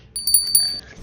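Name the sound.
notification bell ding sound effect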